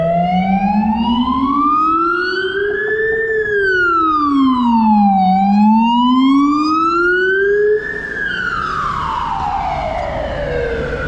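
An ambulance siren on a street in Adelaide, loud and close, wailing in slow rising and falling sweeps that shift in pitch as it passes, over faint traffic.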